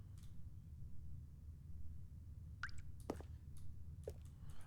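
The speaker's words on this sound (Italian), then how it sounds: "Sto sentendo proprio qualcosa che gocciola." Water drips a few times, sparse and faint, with small plinks spaced irregularly over a low, steady background hum.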